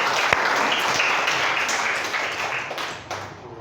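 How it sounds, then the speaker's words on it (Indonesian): An audience claps in a classroom lesson, a dense, steady patter of many hands lasting the whole stretch and thinning slightly toward the end, with no talk over it. "Beri aplaus dulu."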